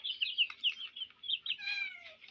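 A cat meows repeatedly and eagerly, wanting to eat eggs, in a home where poultry are raised; the cries are close, fairly loud and rise and fall in a series of drawn-out calls.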